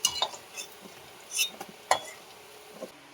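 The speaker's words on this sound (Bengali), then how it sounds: "আমার আলুটা ভাজা হয়ে গেছে, তুলে নিচ্ছি" Fried potatoes being lifted out of a pan of hot oil with a utensil: a few quiet, scattered clinks and scrapes of metal against the pan over a faint background.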